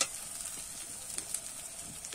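Spices sizzle softly in a pan while being stirred, with mango leaves added, a faint steady frying hiss with a few light scraping taps throughout.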